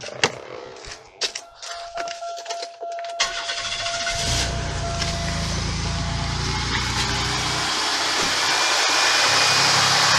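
A Buick 3800 V6 cranks with a few clicks and clatters, then catches and settles into a steady, close, rumbling idle that runs to the end.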